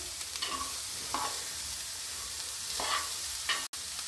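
Grated cauliflower being stirred into fried spices in a pan, with a steady soft sizzle and a few rhythmic scraping strokes of a spoon, close and quiet, with no voices.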